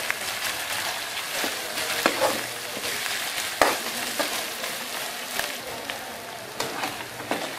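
Ginger garlic paste frying with onions for a cauliflower and mutton curry. A steady sizzle runs throughout, broken by occasional sharp scrapes and clinks of stirring, with no talking.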